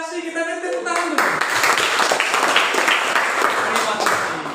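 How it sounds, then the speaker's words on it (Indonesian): Children in a classroom clap their hands together in a dense, sustained round of applause that starts abruptly after a moment of voices and carries on steadily to the end. "Kita tepuk tangan dulu."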